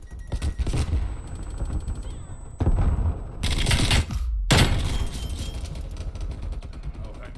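Gunfire in the multiplayer shooter Call of Duty Black Ops Cold War, loud bursts of automatic fire and rattling shots with brief pauses and abrupt cuts, dense and close.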